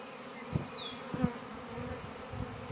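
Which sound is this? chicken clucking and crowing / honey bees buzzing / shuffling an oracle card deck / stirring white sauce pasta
honey bees buzzing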